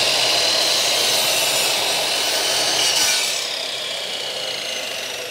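Loud, steady rasp of a power saw cutting through wood for a birdhouse, pitch dropping slightly partway through as the blade bites in, no voices.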